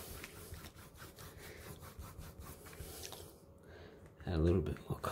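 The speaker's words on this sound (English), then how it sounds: "Scrub, scrub, scrub. Get those divots covered." A brush scrubbing acrylic paint onto canvas, a rapid rasping back-and-forth scratching at close range, with a person speaking over it before a louder rough burst near the end.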